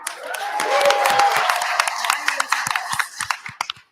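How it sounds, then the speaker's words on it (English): Applause at a village board meeting begins as a dense round of clapping from the room with a voice over it, then thins into scattered individual claps that fade out toward the end. "Want to give him a round of applause."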